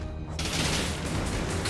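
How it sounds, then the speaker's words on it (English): A grenade goes off in the video game Dead Cells, a short, loud, dense burst of crackling blast noise that fills the moment and trails off, with no talking. "Let's just use my grenade."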